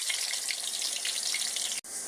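Onions frying in hot oil in a pan for potato bhaji with bay leaf, a steady close hiss and crackle of sizzling that runs unbroken with a brief cut near the end.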